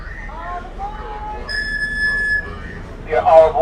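A Key West Conch Tour Train pulls away from Mallory Square in the old town, with a steady tonal whistle or horn held for about a second over low rumble, followed by a brief bright squeal, with people talking nearby.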